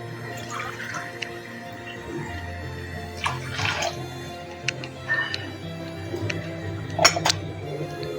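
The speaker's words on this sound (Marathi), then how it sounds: "मी ही डाळ तुम्हाला पाण्याचं प्रमाण समजावं म्हणून अशी उपसून पुन्हा पाणी घालणार आहे" Water splashes and drips into a metal pot of lentils for a pressure cooker, with a few clinks of the vessel over a steady low hum.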